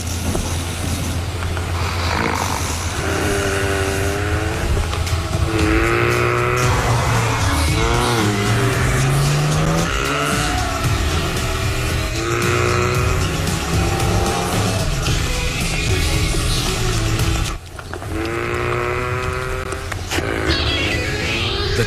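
A turbocharged Volkswagen Golf GTI driving hard in a TV advert, engine revving and tires squealing through repeated rising and falling pitch sweeps, loud and continuous with a brief cut near the end.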